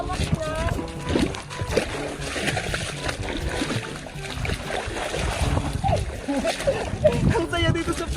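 Water splashes as people bathe in a cold river in the provinces, churning and sloshing continuously close by, with wind buffeting the microphone and voices talking over the splashing.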